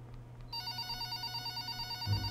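In the video game Chromatose, a hospital ward telephone starts ringing with a bright, steady electronic trill, rapid repeating pulses that begin abruptly and stay clear with no one talking.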